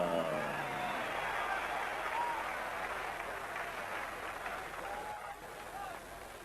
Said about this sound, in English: A round of applause, please, for John Michael Johnson